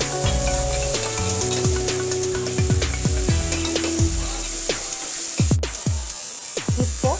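Onions, green chillies and curry leaves sauté in a pan with a steady, loud sizzle, punctuated by frequent scraping and knocking of a spoon against the pan throughout.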